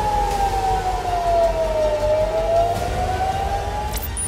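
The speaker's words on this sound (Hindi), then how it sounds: "तेल अवीव में भी खतरे का सायरन बजता रहा।" An air raid warning siren wails in Tel Aviv, one steady, loud tone that slowly falls and rises again over a constant background hum, with no voices.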